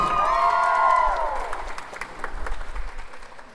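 Audience at a staged variety show breaks into applause with some cheering as musical tones fade, a dense clapping crowd that thins out toward the end, heard close and loud.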